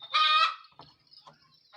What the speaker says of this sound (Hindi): इसमें मुर्गों और मुर्गियों को इसके अंदर कैद किया जाता है